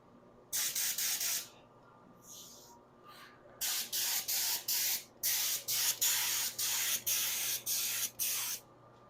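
A spray gun hisses in a series of short bursts, one after another at a steady pace, painting a bumper cover in a garage, close by with no talking.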